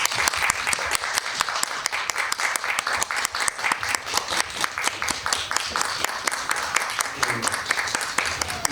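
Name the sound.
audience applause welcoming the film team onto the stage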